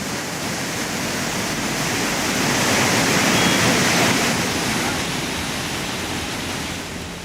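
Heavy torrent of water pouring down Kuttalam waterfall in the rain, a dense, continuous roar that swells slightly in the middle and holds steady throughout, with no voices.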